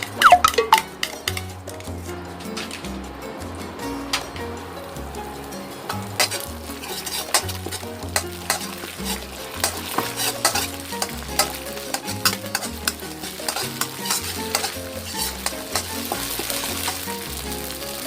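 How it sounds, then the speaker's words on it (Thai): Steady sizzling of stir-frying beef skin with curry paste and oyster sauce in a wok, with a spatula scraping and clinking against the pan in a busy rhythm throughout, close and fairly loud. "เติมน้ำมันหอยลงไปผัดด้วยจะได้หอม"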